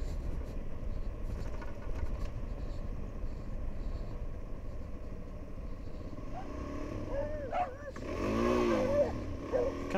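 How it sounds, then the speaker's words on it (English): Dogs bark near a roadbook rally route as a motorcycle rides past, with a few sharp yips and barks rising late over steady engine and road noise. "Dogs."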